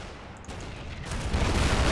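A tank gun fires a shell and scores a direct hit in the Men of War war game, giving a short burst of booming gunfire that builds in loudness over a rumbling battlefield.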